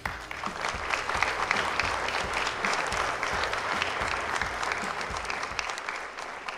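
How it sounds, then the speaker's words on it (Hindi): An audience applauds steadily and warmly, dense clapping sustained throughout without any voices. "आपकी भरपूर तालियों में"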